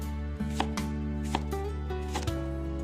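A knife cuts a pear into small pieces on a board, giving about half a dozen crisp, close chops at an uneven pace over a steady background hum.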